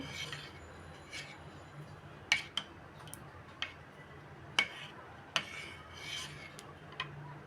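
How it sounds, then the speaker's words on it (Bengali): Spoon scraping and clinking against a pot while salt and sauce are stirred into homemade corn soup, several sharp metallic ticks scattered over a soft, steady stirring rub, close and fairly quiet. "তা আমি টেস্টিং সল্ট আর সস দিয়ে দিলাম, মিশিয়ে নিচ্ছি।"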